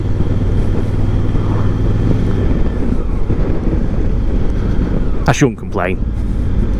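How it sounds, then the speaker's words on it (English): A hire motorbike's engine drones with a whining rattle under heavy, constant wind buffeting while riding, and a rider speaks briefly over the noise. "It's got a little bit of rattle when you wind it, but it's that in-between whining sound that it makes."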